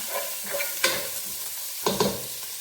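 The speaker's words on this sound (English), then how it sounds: "Turn that down a bit, so that's getting a bit sizzle-wazzle, like that." Pork and vegetables sizzle and crackle steadily in a hot pan, with a few clattering stirs and utensil knocks over the continuous frying hiss.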